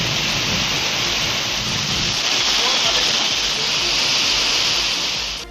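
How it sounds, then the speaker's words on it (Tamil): Heavy rain pours steadily in the Arur area of Dharmapuri district, Tamil Nadu, with rainwater flooding the roads; a dense, loud, continuous hiss of downpour and rushing water holds evenly for several seconds before easing at the end. "பெய்த பலத்த மழையால் சாலைகளில் மழைநீர் பெருக்கெடுத்தது"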